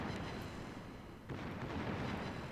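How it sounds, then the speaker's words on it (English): Secondary guns of a Grosser Kurfurst battleship firing in World of Warships, a dense, steady rumble of distant booms and artillery fire that swells slightly midway, with no talking. "But the secondaries are hitting him."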